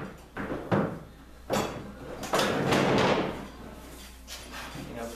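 Several sliding, scraping bumps of a heavy door being pushed onto threaded rods into a cut slot, with a longer grinding slide in the middle, close by.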